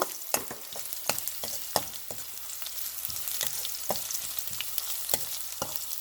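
Garlic and tamarind sauté in a hot pan, a continuous close crackling sizzle broken by repeated sharp clicks and scrapes of a spoon stirring against the pan, with no voices.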